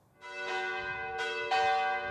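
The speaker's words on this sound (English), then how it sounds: "Bells ringing in memorial for the victims of a fatal fishing trip." Church bells ring out in rich, sustained tones in memorial for victims of a fatal fishing trip, with fresh strikes landing about every second over the lingering hum, fairly loud and unaccompanied.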